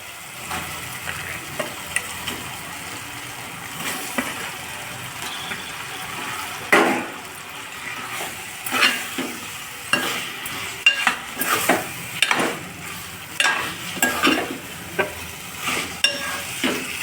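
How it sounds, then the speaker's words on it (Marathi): Vam eel fish frying in a pan for an Agri-style rassa, with a steady sizzle under repeated scraping stirs that come in irregular bursts, close and fairly loud. "मस्त. आता आपण यात वाम सोडूया."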